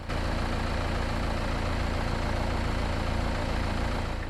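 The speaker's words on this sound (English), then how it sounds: "This Trafic is powered by a 2-liter, dual overhead cams, 16 valves, twin-turbo diesel inline 4-cylinder engine." A 2021 Renault Trafic van's 2-liter, 16-valve, twin-turbo diesel inline four-cylinder idles steadily with a loud, close, even low rumble and no talk over it.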